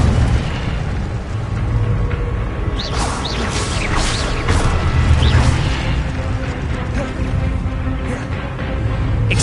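The Incendio fire spell is cast in Hogwarts Legacy: a loud, continuous roaring rumble of flame with scattered crackling bursts and pops, sustained throughout without any talking.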